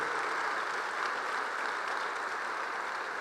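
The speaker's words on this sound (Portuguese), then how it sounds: "vamos receber o servo de Deus com uma salva de palmas para Jesus" A congregation applauds as a preacher is welcomed in a Portuguese-language church service, a steady, dense wash of clapping from many hands that holds evenly for a few seconds without talk.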